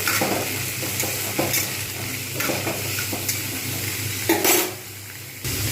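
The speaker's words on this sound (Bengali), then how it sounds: "এবার এতে একসঙ্গে সমস্ত সবজিগুলো আমি কিন্তু ভেজে নেবো" Mixed vegetables for fried rice are stir-fried together in oil in a pan, with a loud close sizzle broken by repeated scraping and clanking strokes of a spatula against the metal.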